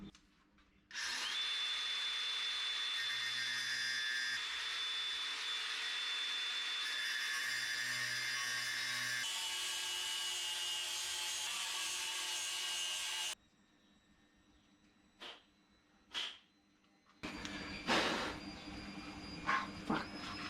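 A power tool cuts a power steering line for a 1951 Chevy custom, grinding loud and steady for about twelve seconds, then a quieter pause with a few short bursts before another loud run at the end.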